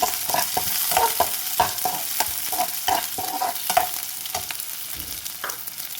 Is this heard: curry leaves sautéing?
yes